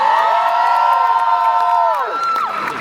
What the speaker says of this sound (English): Something tells me this crowd is familiar with Jack and Oddfellow.